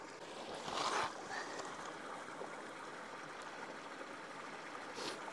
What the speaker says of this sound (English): Out here, this water is running.